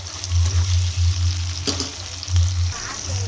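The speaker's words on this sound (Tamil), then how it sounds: "அடுத்து தக்காளி சேர்த்து கொஞ்சம் நல்லா வதக்கி விடுவோம்" Chopped tomatoes sauté in a pan for brinjal thokku, a loud close sizzle with a low rumbling undertone and the scrape of stirring running throughout, alone without talk.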